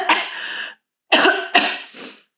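A woman with a cold coughs hard three times in close succession, harsh and near, with brief silences between bursts and no talk.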